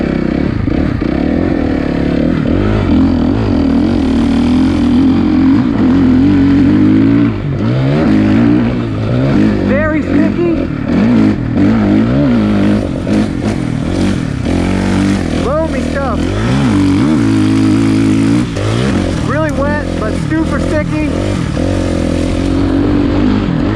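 A stock-suspension Suzuki RMZ 450 dirt bike on its first lap makes loud, close engine noise that rises and falls as the throttle is worked through the run, with talk over it.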